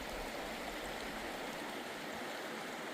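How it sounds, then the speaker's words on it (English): Naneum Creek in eastern Washington streams past a campsite with a constant, even rushing of water, fairly soft and unbroken, with no voices. "We made it down the mountain to Naneum Creek."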